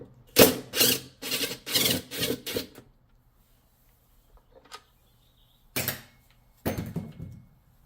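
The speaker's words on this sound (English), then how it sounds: "We're going to remove the 11mm bolt that's holding the wash plate slash impeller on." Wrench or ratchet working loose the 11mm bolt that holds the wash plate impeller on a Whirlpool/Maytag washer: a run of close, loud ratcheting clicks for about three seconds, a quiet pause, then two more short bursts.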